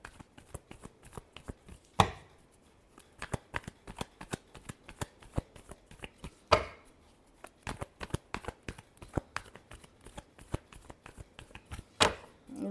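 A deck of tarot cards is shuffled in close, repeated bursts of crisp flicking and slapping, with sharper riffle snaps every few seconds and no talking.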